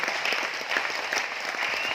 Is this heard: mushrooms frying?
no